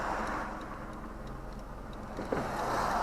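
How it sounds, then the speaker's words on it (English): A 2001 Mercedes 230 SLK driving, its steady low engine and road drone continuous and close throughout, with a faint ticking rhythm over it and no talking. "my point of view drive of this 230 SLK"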